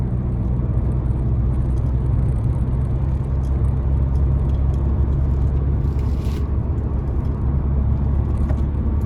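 Inside a Fiat Egea Cross 1.6 with a 130 hp manual gearbox climbing uphill in fifth gear, a constant deep engine drone blends with tyre roar and whirring road noise, steady and close throughout, without speech.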